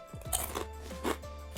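Someone bites into crunchy kettle chips and chews, giving three or four loud, close crackling crunches in quick succession.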